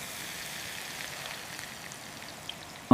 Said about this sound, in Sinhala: මාර වැස්සක් නේ යකෝ මේක.